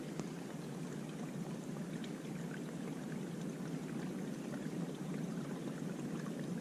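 Cold stream water squeezed out through a filter bottle, a steady, even rushing pour that runs without a break, close and moderately quiet.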